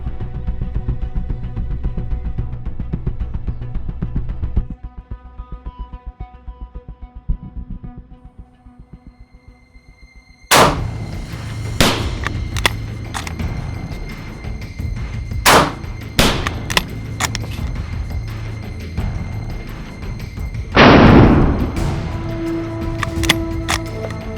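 A WW2 British bolt-action rifle is fired outdoors, producing several loud, sharp cracks at irregular intervals in the second half after a quieter stretch, with metallic bolt handling and one longer hissing burst in between.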